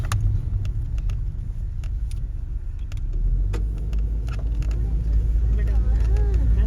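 Three cars climbing a hill road behind a group of friends on an outing, a steady engine rumble that swells and grows nearer toward the end, with people talking over it.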